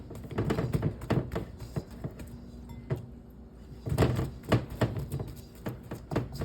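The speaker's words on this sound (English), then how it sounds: "We got to knock the gas out of the dough again." Risen bread dough being knocked back by hand, giving a series of soft, close slaps and thumps in irregular clusters with a short quieter pause midway, no talking.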